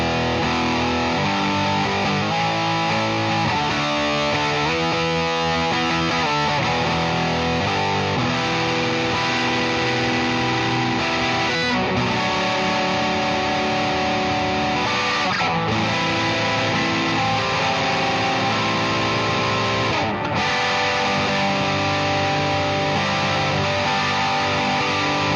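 Heavily distorted electric guitar through a distortion pedal on an amp-less stereo board plays chords and riffs, thick and saturated, loud and continuous without any talking.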